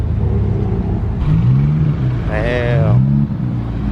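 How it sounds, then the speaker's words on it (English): A Honda Civic Type R rolls into a car meet, its engine rumbling steadily at close range with a brief rising rev, while people talk over it. "Another Type R rolling in."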